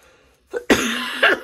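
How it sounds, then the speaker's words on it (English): A person who is feeling unwell coughs at close range, a short throat sound followed by one harsh, loud cough and a second smaller burst, with no talking. "Don't mind the coughing, guys."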